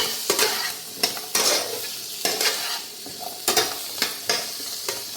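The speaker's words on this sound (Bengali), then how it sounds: "এখানে আমি টকের সবজিগুলো হালকা একটু ভেজে নিচ্ছি" Sour vegetables lightly frying in a pan, with a steady sizzle broken by repeated scraping stirs in an irregular rhythm, close up and with no talk.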